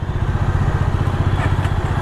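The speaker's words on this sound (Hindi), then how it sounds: "अभी नए डोमिनर का साउंड बहुत अच्छा है, एकदम स्वीट विसल जैसा" A new Bajaj Dominar motorcycle engine running close by, a loud, even, throbbing idle with a steady low pulse and no talk over it.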